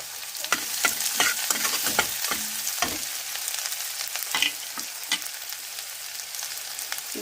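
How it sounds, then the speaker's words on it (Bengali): Chopped onion, garlic and ginger fry in hot oil while being stirred, with a steady close sizzle broken by sharp scraping clacks of the spoon against the pan, busy at first and then calmer. "এবার আদা কুচি দিয়ে দেবো"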